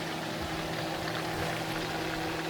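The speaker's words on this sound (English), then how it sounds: "Food is bubbling." Continuous low bubbling and simmering from a pot of chicken back and ackee, a steady dense texture with a faint hum underneath, no voices.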